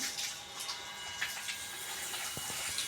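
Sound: washing water flowing into the drain

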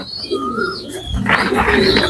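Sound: pigeons cooing on a poultry farm

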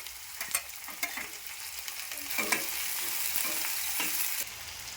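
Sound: chopped onion and tomato frying in a pan

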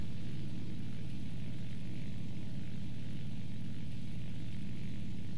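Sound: propeller plane engine flying, from the video game War Thunder

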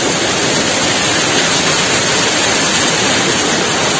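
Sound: mountain waterfall on the trail to Badani Tal

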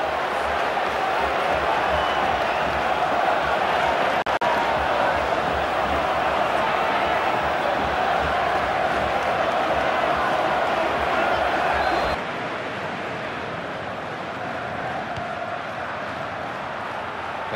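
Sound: stadium crowd cheering a goal in FIFA 15 video game

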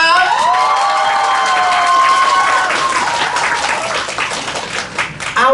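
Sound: applause and cheering

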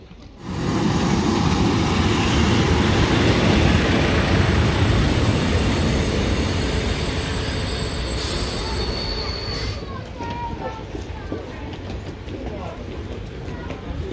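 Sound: PKP InterCity passenger train arriving at station

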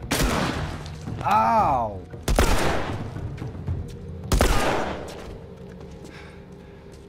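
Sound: gunfire in the video game The Last of Us Remastered

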